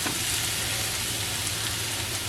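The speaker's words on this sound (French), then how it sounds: "Du coup là mes oignons ont bien commencé à frire" Onions fry in oil in a pan, giving off a steady, dense sizzle and crackle that stays even throughout.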